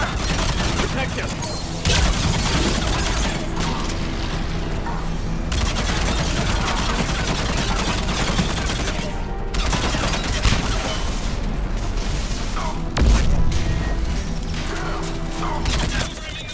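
Sustained rapid gunfire and clanking mechanical noise fill a Mass Effect 3 battle, loud and continuous, with voices mixed in now and then.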